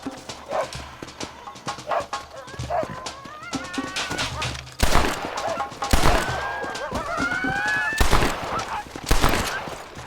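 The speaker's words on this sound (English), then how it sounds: "They're shooting again." Several sharp gunshots crack out from about the middle onward in Red Dead Redemption, loud and spaced a second or two apart, over horse hooves, honking bird calls and shouting voices.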